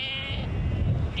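Sheep bleating on a farm property raising sheep and crops, a couple of clear, close bleats at start and end over steady low rumbling background.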